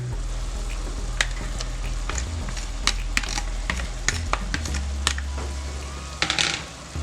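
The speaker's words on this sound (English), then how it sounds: "So we'll go ahead and add our broccoli." Frozen steamer-bag broccoli added to a hot pan for broccoli and mushroom pasta sizzles steadily and loudly, with scattered crackles and sharp pops throughout.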